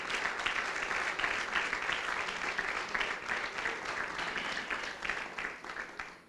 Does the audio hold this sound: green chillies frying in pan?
no